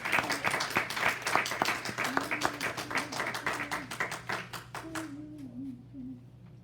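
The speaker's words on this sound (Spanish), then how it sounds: "Démosle el aplauso al Señor." A church congregation claps together in a dense, rhythmic burst of applause that fades toward the end, with a faint voice or tone underneath.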